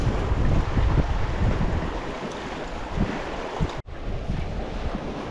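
A sea wave washes against a small fishing boat near the Greek islands of Oinousses and Psara, a steady broad rush of water and wind buffeting close to the microphone, with a brief dropout near the end.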